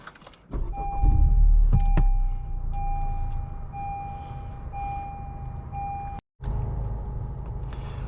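A 2019 Honda Civic Type R engine cranks and fires up close by, settling into a steady idle hum, with a chime beeping repeatedly and a brief cutout before the idle resumes.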